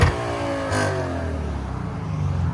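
A 2015 Lexus RC F with its 5.0 V8, APEXi mufflers and a resonator delete revving hard toward redline, a loud close exhaust roar climbing steadily in pitch, then settling into a rumbling hold.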